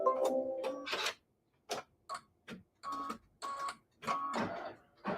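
A home embroidery machine sews a fabric placement line for a Christmas quilt block, giving short bursts of rapid mechanical stitching and ticking separated by brief pauses, close and clear with no talking.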